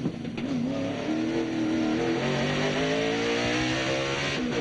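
A NASCAR Craftsman truck at Portland in 1999 accelerates hard in first gear, its loud engine note rising steadily in pitch throughout, heard close with no talk over it.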